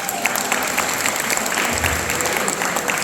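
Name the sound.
round of applause from wedding guests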